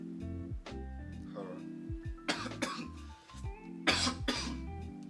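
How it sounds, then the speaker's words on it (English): A couple of sharp coughs break through steady background talk and music, each a brief broadband burst standing out clearly near the mic. "I don't have corona. It was a cough."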